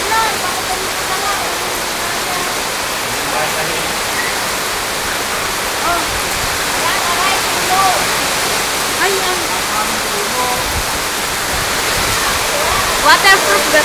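Heavy rain pours down in Padre Garcia, Batangas, Philippines, a dense, steady hiss that continues unbroken for the whole stretch, with faint voices now and then.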